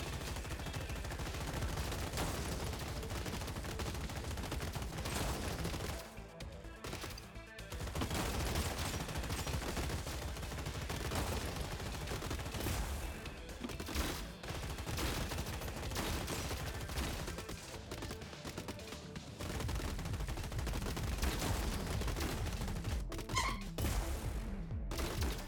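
Machine gun bots in the robot strategy game Gladiabots fire continuously over about 25 seconds, in dense sustained bursts with a few brief pauses, loud and close throughout.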